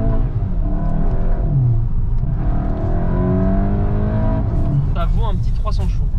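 A Volkswagen Golf 8 GTI accelerates hard, its engine note climbing steadily in pitch and loud from inside the car, with someone talking over it throughout.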